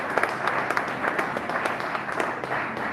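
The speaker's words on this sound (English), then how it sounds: "Once again, give that a round of applause." Steady applause from an audience at a high school track team awards ceremony, dense clapping filling the room at a constant level with no talk over it.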